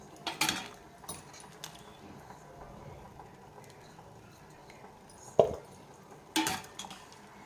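Boiled cauliflower being scooped out of its cooking water into another bowl, heard as a few sharp utensil-on-bowl clinks and clatters separated by quiet gaps, close and moderately loud.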